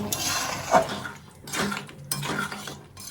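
A spoon stirs dal in a metal cooking pot, giving a few scraping, clinking strokes against the pot's sides. The sound is soft and close, with quiet gaps between strokes.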